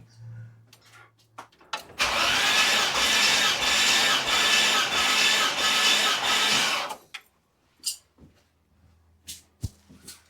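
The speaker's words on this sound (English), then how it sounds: "Let's just put the compression tester on number 2 and give it a quick few spins." A petrol engine with a compression tester fitted to cylinder number two and the throttle jammed open cranks over for about five seconds, a loud, steady, rhythmic churn, followed by a few scattered clicks in the quiet.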